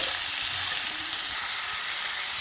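Chicken roast masala sautés in a pan with a continuous, even sizzle and frying hiss, close and steady throughout, with occasional faint stirring beneath.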